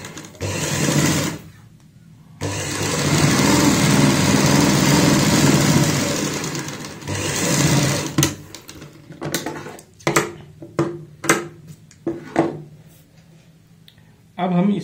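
A sewing machine stitches a cloth pollution mask with a half-inch seam. It runs in one long steady whir, then gives several short start-stop bursts, with talking in between.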